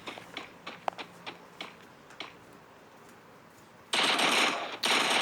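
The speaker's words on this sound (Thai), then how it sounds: "โดนยิงโดนยิงโดนยิง" Gunfire in the mobile battle-royale game Free Fire: a run of sharp, rapid shots, then two loud sustained bursts of automatic fire near the end, close and dominant.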